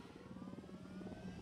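A helicopter in the video game Ghost Recon Wildlands produces a faint, steady rotor thrum with a rapid rhythmic chop and low engine drone, heard alone with no voices.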